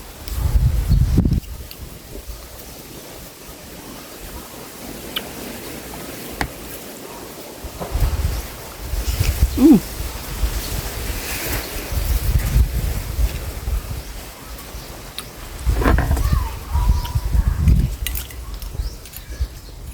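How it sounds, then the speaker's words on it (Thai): Outdoor wind gusts on a cool day rumble intermittently against the microphone, with faint rustling of leaves in between and no talking. "วันนี้ลมเย็นหน่อยนึง"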